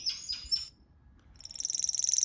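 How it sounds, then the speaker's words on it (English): A golden lion tamarin calls with a few sharp, high chirps, then a quick, rising run of shrill trilled notes, clear and fairly close with no other sounds. "Golden lion tamarin."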